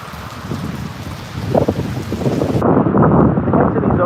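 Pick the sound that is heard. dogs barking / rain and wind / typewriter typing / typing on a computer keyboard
rain and wind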